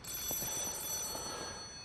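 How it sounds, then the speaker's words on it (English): A telephone rings in the video game Lies of P: a steady, fairly quiet electronic bell ringing that runs on under soft ambient game sound. "I hear another phone."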